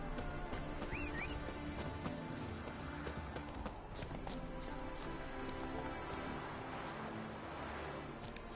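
A horse in the video game Witcher 3 gives a brief neigh early on, amid steady clip-clopping hooves and a constant patter of rain that fills the whole stretch.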